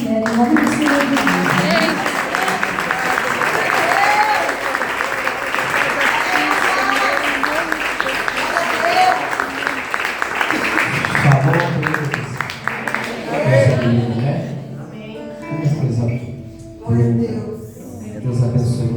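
A church congregation applauding at a service, sustained loud clapping filling the room with crowd noise mixed in, then fading out as a voice takes over near the end.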